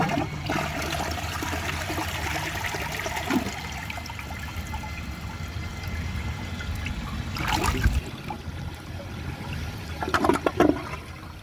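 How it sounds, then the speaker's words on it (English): Vortens Vienna or Mansfield Alto toilet flushing, a rushing swirl of water that trickles and gurgles, with sharper splashes and surges partway through, close and alone. "So let's try a second flush."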